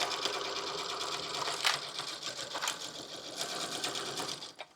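Sewing machine stitches around the seams of fabric for an Easter keepsake, a continuous close, fast whirring rattle with slight speed changes, slowing to a stop at the end.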